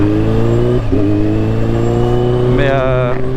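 A Kawasaki H2 motorcycle with a 280 hp engine runs loud and close at a steady, throbbing idle, then a sharp rev rises briefly before settling back near the end.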